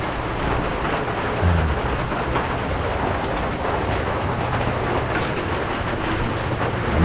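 Steady rain falls outdoors, a dense, even hiss of drops on surfaces that holds for several seconds with a faint low rumble underneath.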